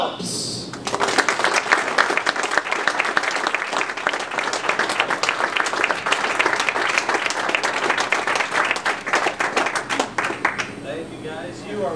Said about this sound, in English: Everybody give it up for Mr. Dan Phelps.